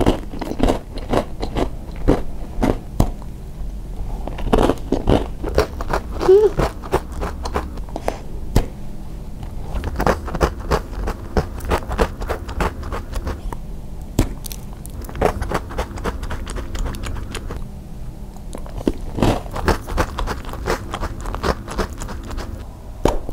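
Close, sharp crunching of a plain chocolate stick snack from a bakery, bitten and then chewed in quick repeated bursts with brief pauses between them. No speech is heard.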